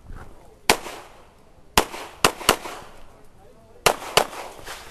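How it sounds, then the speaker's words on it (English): Six sharp, loud pistol shots from a Springfield XDM prepared by Spencer Race Guns, fired in Carry Optics at a USPSA match at Wayne County Raccoon Hunters Club, come in quick pairs and singles with short echoing tails. "I'm shooting carry optics with my Spencer Race Guns prepared XDM"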